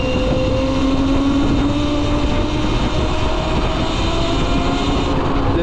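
CAKE Kalk enduro-style electric motorcycle being ridden, a continuous loud motor whine with rising and falling tones over rushing wind and rumble, steady throughout.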